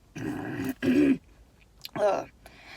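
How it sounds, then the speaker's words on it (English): A smoker's hoarse cough, two harsh bursts close to the mic followed by a shorter rougher one, with a quiet throat noise in between. "Smoker's cough, I promise it's not corona."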